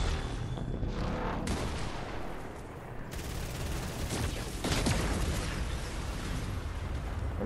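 Gunfire in Fortnite rattles in dense overlapping bursts and booms, loud and sustained across the whole stretch with a brief dip midway, no talking.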